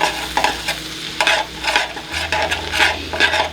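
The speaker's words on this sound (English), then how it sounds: "We're gonna add in the garlic, we're gonna add in the rosemary, let that cook just for a few moments" Garlic and rosemary cook in melted butter in a pan, a steady close sizzle and fry with repeated stirring scrapes in bursts, no talking.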